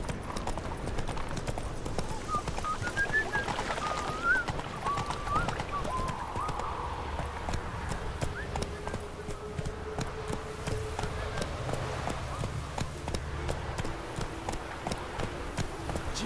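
Roach, Geralt's horse in The Witcher 3: Wild Hunt, gallops with steady, rhythmic hoof clip-clops that continue throughout under light ambient game sound, with a brief voice partway through.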